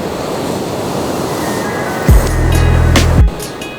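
Surf washing onto Diamond Beach in Iceland, where glacier ice drifts ashore, makes a steady broadband wash. A heavier wave surges in and out close by midway through, and wind rumbles over the microphone throughout.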